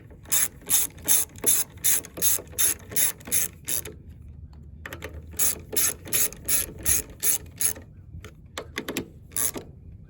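Carburetor bolts being tightened on a Briggs and Stratton Quantum engine with a ratchet, giving bursts of quick, close clicking in a steady rhythm, separated by short pauses.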